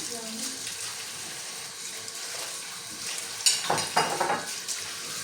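Water runs from a tap with a steady hiss, followed by splashing and rubbing as potatoes are rinsed under the stream.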